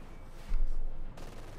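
Short burst of machine gun fire in the video game Company of Heroes 2, a brief rattling volley over steady background battle noise, moderately loud and close.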